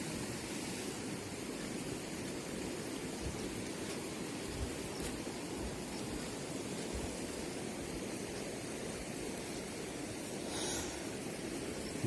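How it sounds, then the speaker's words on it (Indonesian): Steady rain falls at a campsite, a constant close wash of hiss with no break and no voices. "Hujan lagi."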